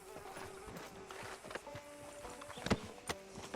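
Horse hooves clip-clop in Red Dead Redemption 2, quiet, uneven steps with a brief louder thud near the end and no speech.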